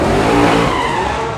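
A race car on a practice launch, a loud, close burst of revving engine and tire squeal lasting just over a second before easing slightly, with no voices.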